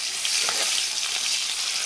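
Onion, green chilli, five-spice seeds and a pinch of turmeric frying in hot oil in a pan, a loud continuous close sizzle with no talk.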